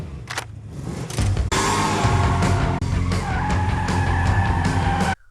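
A heavy, sluggish 9,000-pound muscle car skids through a chase scene, tires squealing in a long sustained screech over a roaring engine, loud and close with a couple of abrupt cuts.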